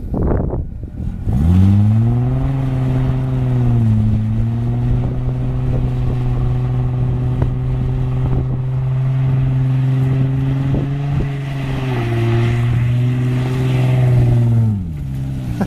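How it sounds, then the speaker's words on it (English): An automatic Infiniti G35 holds a long, loud burnout, the engine droning at high revs with small dips and rises in pitch, close by and with no talk. "Give him a burnout."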